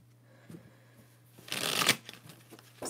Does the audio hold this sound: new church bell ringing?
no